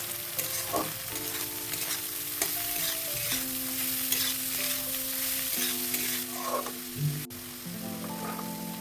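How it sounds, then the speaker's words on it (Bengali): Carrots, beans and cabbage being stir-fried in a pan for egg fried rice, a steady close sizzle with repeated scraping and stirring strokes throughout. "গাজর আর বিনস হালকা একটু নাড়াচাড়া করে ভাজার পর আমি এখানে বাঁধাকপিটা দিলাম"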